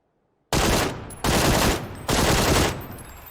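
QBZ assault rifle fire in PUBG, three loud full-auto bursts in quick succession, each a dense roaring rattle with brief gaps between.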